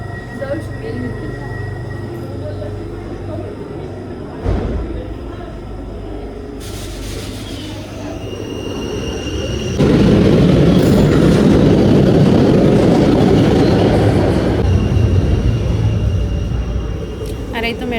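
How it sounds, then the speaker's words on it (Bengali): Metro train pulling into a station in Belgium: rising rumble and rail noise that swells loudly midway and holds, with a sharp clunk earlier and tonal squeals above, under platform ambience. "আর এই তো মেট্রো চলে আসছে"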